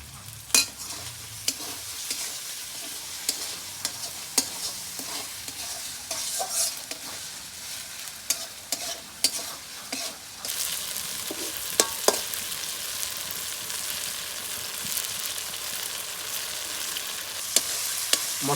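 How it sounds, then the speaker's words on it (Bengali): Spices sautéed in a frying pan with a little salt, being prepared for a country chicken dish, stirred over a constant oily sizzle with repeated close scrapes and taps of the spatula, the hiss swelling louder toward the end, no speech. "মশলাগুলো কষানো হয়ে গেছে"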